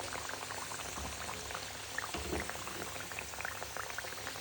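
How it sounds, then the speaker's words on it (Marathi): Chakli deep-frying in hot oil makes a steady, dense bubbling sizzle that runs evenly throughout, close and moderately loud, with no voices. "तर ते आपण अशा तळून देऊ थोडा वेळ"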